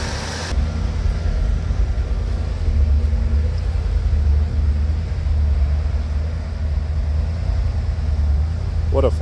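An old Lincoln car, woken after more than thirty years in storage, runs steadily on a test drive with a loud, constant low engine rumble throughout.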